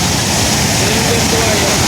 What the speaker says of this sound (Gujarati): એટલા તો ખાલી બે નિકાલા ખોલ્યા છે ને એટલું પાણી છે આમાં